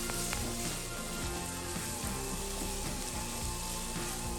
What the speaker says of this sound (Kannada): ಪ್ಯಾನಿಗೆ ಎಣ್ಣೆ ಹಾಕ್ಕೊಂಡು ಸಣ್ಣಗೆ ಕಟ್ ಮಾಡಿಕೊಂಡಂತಹ 1 ಈರುಳ್ಳಿಯನ್ನು ಹಾಕಿ ಚೆನ್ನಾಗಿ ಫ್ರೈ ಮಾಡ್ಕೊಳ್ಳಿ